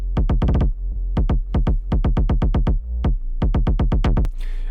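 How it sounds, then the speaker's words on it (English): Punchy electronic kick drum hits in rapid bursts with a deep bass tone underneath, loud and close, in a repeating rhythmic pattern. "You're gonna start out with your kick and your bass."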